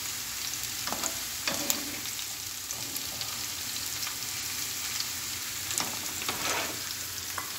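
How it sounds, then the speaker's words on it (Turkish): Green peppers sizzle steadily as they are sautéed in a pan for okra cooking, with a continuous close frying hiss. A few soft scrapes and clinks of stirring come through it. "Daha sonra yeşil biberimiz. Onu da 1-2 karıştırıyoruz."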